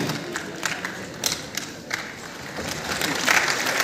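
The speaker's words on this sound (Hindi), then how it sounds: "आपकी तालियों का उद्घोष मिलते रहना चाहिए" Applause from an audience welcoming guests at a formal ceremony, steady broadband clapping throughout that swells slightly near the end.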